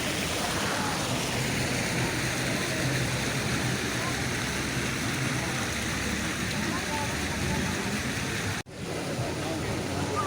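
Steady broadband rush of splashing water from public fountains in Portugal, loud and continuous for about eight seconds before cutting out abruptly, then resuming after a short gap.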